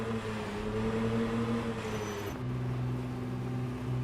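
A car drives in the Project Zomboid video game, with a steady engine hum that shifts pitch partway through as it changes speed, heard close with no talk.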